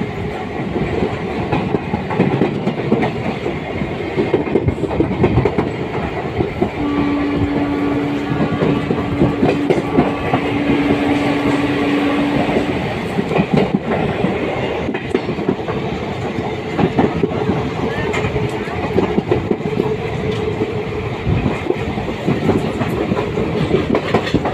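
Inside a coach of the Ganga Kaveri Express, about fifteen coaches behind the locomotive, a steady rumbling roar carries a continuous rhythmic clickety-clack of wheels over rail joints, with no one talking.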